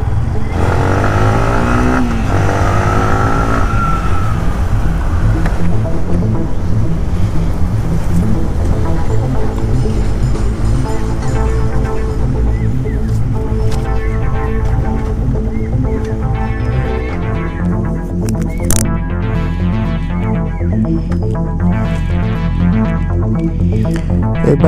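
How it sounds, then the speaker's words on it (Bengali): A Yamaha MT-15 motorcycle on a test ride accelerates with a loud, steady engine drone. The pitch rises and shifts through gear changes, and the sound is continuous and close for the whole stretch. "এটাকে একটু চালিয়ে দেখা যাক কেমন অ্যাক্সেলারেশন রেসপন্স পাওয়া যায়"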